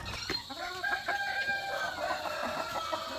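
A rooster crows at moderate distance, its drawn-out call rising above faint clucking and farmyard background noise, among Leghorn chickens.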